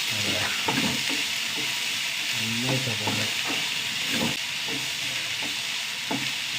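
Onions sauté in a hot pan, with a continuous hiss and sizzle under intermittent scraping and stirring strokes and a few light utensil knocks, with no one talking.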